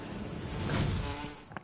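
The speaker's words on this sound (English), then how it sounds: "I can't remember how you get the bees off him." A buzzing swarm of bees in the stealth video game Metal Gear Solid 3, a dense insect drone that swells and fades over a second or two.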